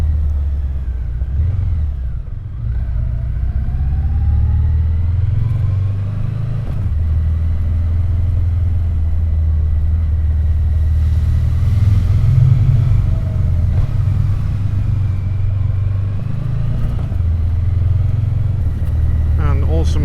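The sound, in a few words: Triumph Bonneville T120 motorcycle engine while riding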